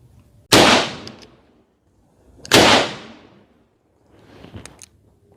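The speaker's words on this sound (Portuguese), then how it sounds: "nós já estamos aqui na linha de tiro com o nosso 44 Magnum" Two loud, sharp gunshots from a .44 Magnum revolver fired at an outdoor shooting range, each a sudden blast with a decaying tail, followed by a quieter third thump; no talking.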